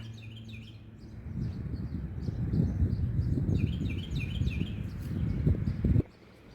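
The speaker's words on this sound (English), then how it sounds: "I love just listening to the birds" Birds chirp and sing faintly in the distance over a rumbling outdoor background, then the rumble cuts off near the end.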